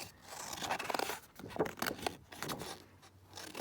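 Scissors cut out a card for journal-card stitching craft, making a string of quick, close snips and paper scrapes in an uneven rhythm, fairly quiet and with no talking.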